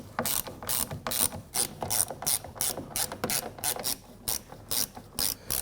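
A ratchet clicks in quick bursts as it snugs down the nuts holding a side mirror on a 2017-2020 Hyundai Elantra, with the sharp pawl clatter repeating in close, even strokes and brief pauses between them.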